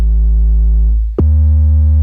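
A loud, sustained low bass tone of an 808-style bassline from a mixer fades out, then returns abruptly as a harsher, buzzier distorted drone once the send output is patched back into the channel input.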